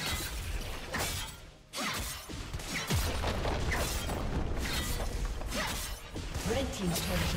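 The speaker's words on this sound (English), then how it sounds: "Red team's turret has been destroyed." In League of Legends, a turret is destroyed with a loud cascade of shattering crashes and booms, with bursts of debris and mechanical clatter among busy game effects.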